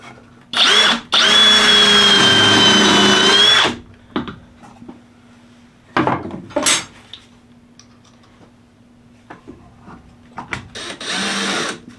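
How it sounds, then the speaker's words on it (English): A power drill drives screws into a wooden chair in a few separate bursts, one long whirring run followed by shorter buzzes, with handling knocks and quiet gaps between them. "as soon as I get a couple pre-drilled screws in it"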